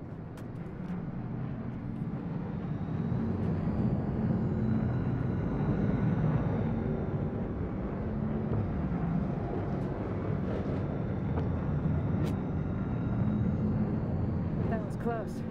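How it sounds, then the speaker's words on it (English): A drone in the video game Cyberpunk hovers overhead as a steady low engine drone and whir, constant and fairly loud throughout, with voices talking over it. "Wait, is that drone?"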